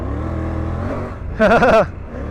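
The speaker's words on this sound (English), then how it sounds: "It revs up and spools up so fast." A 2024 Triumph Tiger 900 Rally Pro motorcycle engine idles steadily, then snaps into one short, sharp rev that quickly drops back to idle, close by with no voices.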